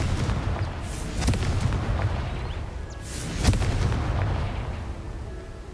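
A Confringo spell from Hogwarts Legacy bursts in a pair of booming blasts with crackling, rumbling tails over a steady noisy bed, loud and close with no talking.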